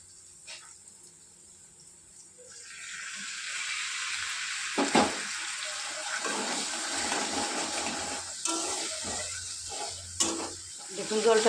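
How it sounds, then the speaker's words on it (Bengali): Spice masala for a doi katla fish curry being sautéed as a little water is added, starting quiet, then a rising hiss and bubbling sizzle with intermittent stirring knocks against the pan. "মশলাটাকে ভালো করে কষানোর জন্য আমি সামান্য পরিমাণে জল দিয়ে দেব।"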